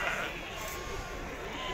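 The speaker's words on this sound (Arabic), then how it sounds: "خروف موجود، النعجه موجوده" Sheep bleat at a busy outdoor livestock market, distant and mixed into a dense crowd murmur with people talking nearby.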